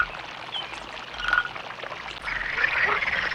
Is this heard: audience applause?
no